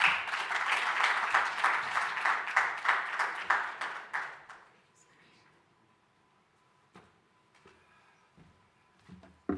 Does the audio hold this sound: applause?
yes